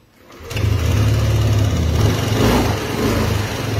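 A Yamaha Aerox scooter engine, just fixed after an ECU repair, starts and runs at a steady idle, loud and close, with a continuous low throbbing hum.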